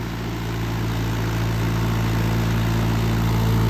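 A tractor with a rotavator attached runs in a wet paddy field, producing a steady, close, low engine drone with a constant rumble and no voices.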